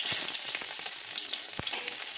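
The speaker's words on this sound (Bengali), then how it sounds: "রসুনগুলোকে একটু ভেজে নেব।" Garlic fries in hot oil in a kadai, giving a bright, continuous crackling sizzle up close with a few soft clicks from stirring over two seconds, and no one speaking.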